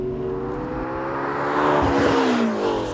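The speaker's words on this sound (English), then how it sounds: "You get a lot higher frequency sounds from the turbocharger whine, you get some intake sucking sounds into the engine." A 2013 McLaren MP4-12C Spider engine revs and builds under load, its rising harmonics joined by a high turbocharger whine and an intake rush, loud and close throughout.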